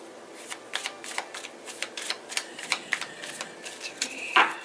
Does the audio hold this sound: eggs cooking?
no